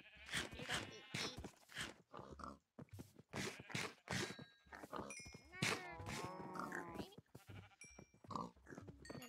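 Minecraft sheep bleat repeatedly in the game, each bleat clear and fairly close, mixed with other game sounds and a voice talking over much of it.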